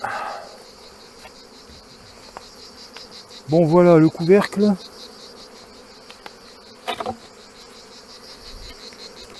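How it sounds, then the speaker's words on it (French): Honeybees buzz around an opened beehive while oxalic acid treatment is applied, a steady droning hum of many insects throughout, briefly interrupted by someone speaking in the middle. "Les abeilles elles deviennent folles. Elles sont perdues."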